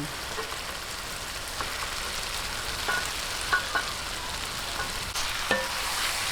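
Chicken pieces fry in a hot pan for a Filipino chicken guisantes dish, giving a steady close sizzle with scattered small pops and crackles, no voices over it.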